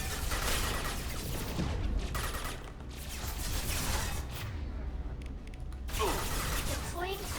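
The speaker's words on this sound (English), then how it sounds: "Deploying combat weapons." Combat weapons deploy in a video game on insanity difficulty, a busy run of mechanical clanks, creaks and ratcheting clicks layered over a loud, dense backdrop of game noise.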